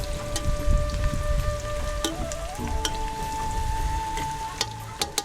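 Onions frying golden in a pan for a Jharkhand-style meat curry, a steady crackling sizzle with close, irregular spatters and a faint tonal hum running underneath throughout.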